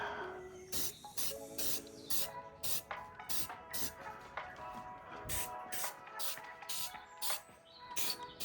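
Aerosol paint sprayed onto a Buster Sword prop in repeated short hissing bursts, each about half a second long with brief gaps between them, close and fairly loud over faint steady tones in the background.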